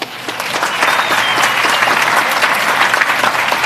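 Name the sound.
audience applause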